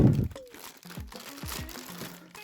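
A sealed plastic bag around a Banpresto One Piece vinyl figure of Trafalgar Law crinkles and crackles as it is opened, with a steady run of close, bright rustling and occasional tonal squeaks.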